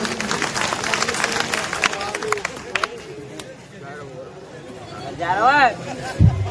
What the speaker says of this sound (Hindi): ताली बजा दो भैया।